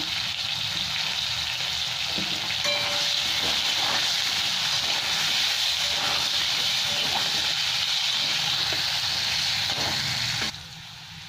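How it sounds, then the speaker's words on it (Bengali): Potatoes seasoned with salt and turmeric fry in hot oil in a pan, giving a steady, close, unbroken sizzling hiss that runs for about ten seconds before dropping off abruptly near the end. "দিয়ে আলুটাকে ভেজে নেব।"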